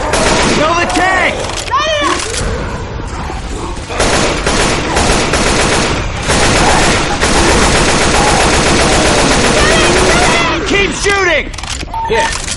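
Rapid automatic gunfire from several weapons aimed at the Tank in the Left 4 Dead 2 Dead Center atrium, loud sustained bursts with short pauses, mixed with game effects and shouting voices.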